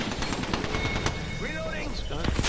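Gunfire in the battle-royale shooter Apex Legends: a dense, continuous crackle of shots mixed with other game sounds and a voice talking over them, close and busy.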